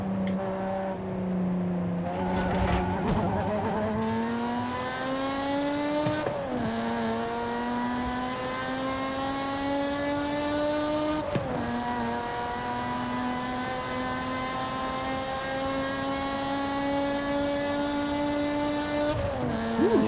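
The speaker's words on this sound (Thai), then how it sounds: "เสียงท่อหวานมาก ชอบมากชอบมาก ชอบเสียงท่อมากนะครับ" A Lotus Emira sports car with a Toyota V6 engine revs up through several gears in Forza Horizon 5, its exhaust note climbing steadily and dropping briefly at each shift, loud and continuous.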